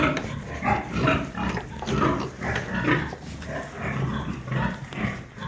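Pigs, including piglets on a small pig farm, grunt and snort close by in a series of short, rough bursts, one after another, with no talking.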